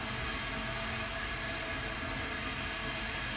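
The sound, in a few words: rocket launch pad ground equipment venting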